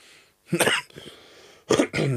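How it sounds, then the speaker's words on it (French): A couple of sharp coughs from a nearby person, one burst early and another pair near the end, with a quieter breathy sound between. "Ça me fait tousser, tu vois."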